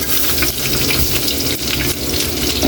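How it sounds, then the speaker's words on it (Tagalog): Garlic sizzles loudly and steadily in hot pork-flavoured oil that has already fried pork and shrimp, a dense close crackle with light stirring throughout, no voices. "Kaylee, lagay na natin yung bawang"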